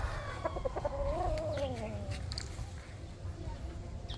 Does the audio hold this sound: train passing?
no